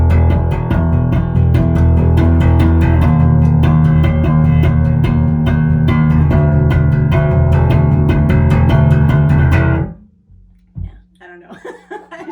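Electric bass guitar playing the bass line of a song, a busy, improvised run of plucked notes, loud and continuous for about ten seconds before stopping, followed by a few faint noises.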